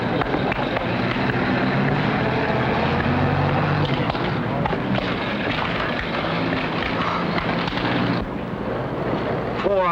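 A propeller airplane engine from a 1950 war film drones loudly and continuously with wind-like rushing noise, a steady roar lasting throughout with a slight drop near the end.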